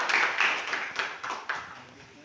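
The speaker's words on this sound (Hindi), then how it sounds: "जोरदार ताली से स्वागत करें" Audience applause greeting an assistant professor at a National Science Day event in a government college hall: steady, crowd-wide clapping with a few louder swells, fading toward the end.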